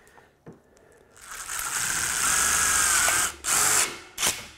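Power drill driving screws into steel stud framing for a curved wall, with a short burst followed by a sustained whirring run, then two brief spurts near the end, fairly close.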